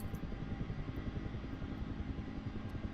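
Mi-28 attack helicopter approaching in a combat search-and-rescue video game: a low, pulsing rotor throb that stays steady and moderately loud, with no voices.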